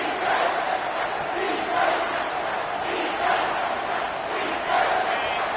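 Home crowd in a college football video game, Oregon Ducks vs Texas Longhorns, roaring steadily on a third-down defensive stand, a dense sustained cheer with swells and no clear speech.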